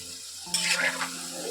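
Raw potato fries dropped into hot oil for restaurant-style French fries, a loud burst of sizzling and bubbling that flares up mid-clip and settles into a steady frying hiss.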